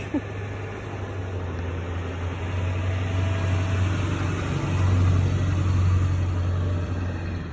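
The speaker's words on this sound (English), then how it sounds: "there's a truck going by" A truck passes outdoors on a street near foliage, producing a steady low rumble that swells slightly toward the end and stays constant throughout, with no talking.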